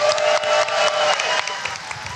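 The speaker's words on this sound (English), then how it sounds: "Round of applause for Lomez." Applause from a live comedy show audience in Seattle, a steady wash of clapping that starts strong and gradually thins out over about two seconds.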